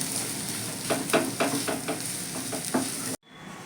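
Lote fish jhuri, a Bengali fried fish dish with chopped coriander, stirred in a pan: repeated scraping strokes over a steady frying sizzle, close and fairly loud, then an abrupt drop near the end.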